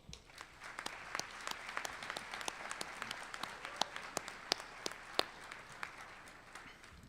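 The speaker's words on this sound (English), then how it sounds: "Soon-to-be graduates, would you please join me in thanking them through applause?" Graduate students at a commencement ceremony applaud their faculty, a wide steady spread of clapping with scattered sharp individual claps throughout, heard from a distance and alone.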